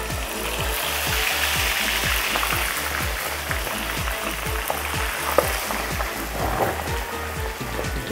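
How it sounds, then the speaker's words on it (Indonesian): Marinated food deep-fries in plenty of hot oil for an Acehnese dish, producing a dense, continuous crackling sizzle. A rhythmic low thumping pulses beneath it, and a few sharper pops stand out. "Minyaknya agak banyak karena kita melakukan proses deep fry"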